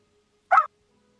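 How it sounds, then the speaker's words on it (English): A small dog lets out one sharp, clear bark, close by and alone against near silence, in the background of a tabletop Dungeons & Dragons session. "Dog pipes up."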